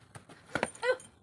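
A small child imitating a dog, giving a few short barking yips in quick succession, soft and close, over a quiet background.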